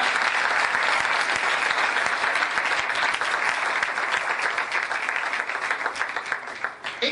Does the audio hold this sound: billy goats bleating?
no